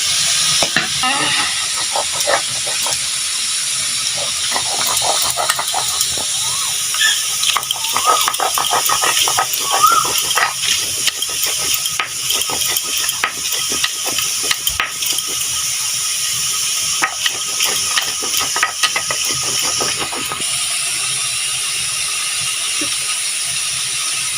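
Prawns and onion frying in a pan, with sizzling and scraping stirring clatter by a metal utensil, irregular clicks and rattles running throughout at close range.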